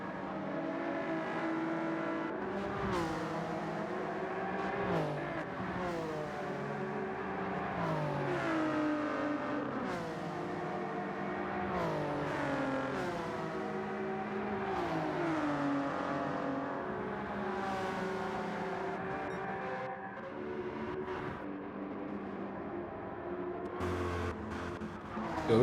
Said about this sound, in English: Ford GT as well has a very, very nice engine sound